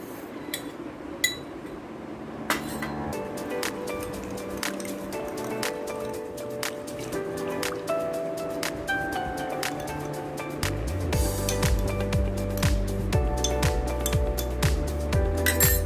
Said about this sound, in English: Now I am going to mix this 7 grams is 2 teaspoons active dry yeast into the milk.